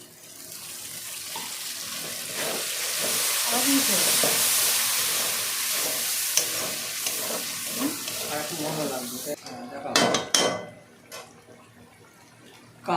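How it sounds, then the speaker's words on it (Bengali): Masala being sautéed with water in a pan gives a steady, close sizzling hiss with soft scraping strokes, ending in a few sharp utensil clatters. "জল দিয়ে কষে নিই"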